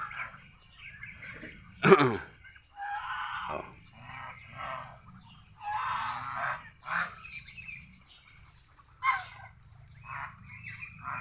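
Mestizo Peking ducks calling in a yard, a loud honk near the start followed by scattered harsh quacks and honks over steady low background noise, with brief bird calls recurring through the stretch.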